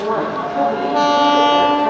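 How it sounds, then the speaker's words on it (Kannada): Hubli to Guntakal train pulling in, a loud, steady rumble with sustained tonal horn-like ringing that swells partway through this short moment. "ಅಲ್ಲಿ ನೋಡಿ ಒಂದು ಟ್ರೈನ್ ಬರ್ತಾ ಇದೆ, ಹುಬ್ಳಿ ಟು ಗುಂಟಕಲ್ ಹೋಗುತ್ತೆ ನೋಡಿ ಟ್ರೈನ್."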